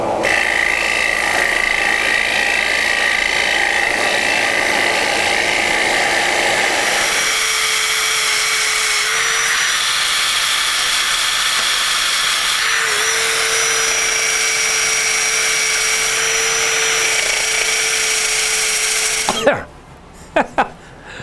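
A power tool shapes and sands a box elder wood platter with a loud, continuous whine that shifts pitch partway through, then cuts off near the end.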